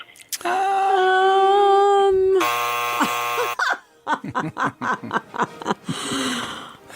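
A game show buzzer sounds once as a loud, harsh, sustained tone lasting about a second, set against a preceding held tone and followed by chattering voices and laughter.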